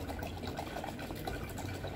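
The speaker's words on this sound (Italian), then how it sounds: "quindi versiamo l'acqua." Water is poured from a small bottle into a basin in a steady, continuous splash and trickle, close and fairly soft with no talk over it.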